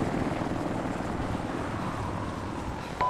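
Attack helicopter in the video game Arma 3, a steady dense rotor and engine roar, constant and fairly loud throughout with no talking.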